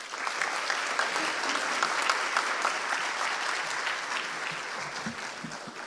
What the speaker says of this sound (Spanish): Con este caluroso aplauso saludamos la participación de la señora Nancy Hernández López